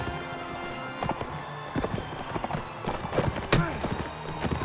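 A horse gallops in the medieval combat game Mount and Blade Warband, a fast, close drumming of hoofbeats running continuously with a neigh mixed in.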